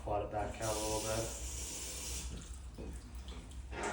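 Water floods out of a cylinder during a hydrostatic test, a close, steady splashing gush that runs throughout and eases slightly toward the end.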